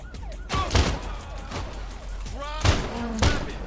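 Gunfire crackles through a crime video game in sharp bursts and heavy thuds, with siren-like tones and voices talking over the shooting.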